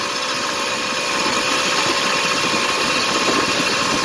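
A motorized bicycle engine drones steadily while riding down a road at a smooth, low speed, a continuous buzzing hum with no talking.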